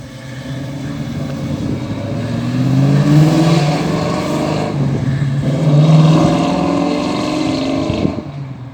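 A Holden Monaro HT, built in South Africa as the Chevrolet SS, drives off at the Beach Hop 2024 car show. Its engine roars loudly up close, revving and surging twice as it pulls away.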